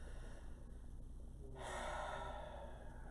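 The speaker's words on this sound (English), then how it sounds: "take a deep breath" One deep breath, a slow soft inhale that swells to a fuller, airy rush partway through and then settles, close and quiet with no talking.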